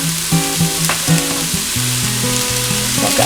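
Chopped onion and garlic sauteing in a pan give off a steady, close sizzle, with a tune playing over it throughout.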